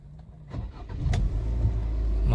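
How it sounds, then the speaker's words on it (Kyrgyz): A 2017 car with a 1.6-litre engine and automatic gearbox starts up, the cranking catching and settling into a steady, close idle that grows slightly louder. "Моторун бир жүргүзүп койдук."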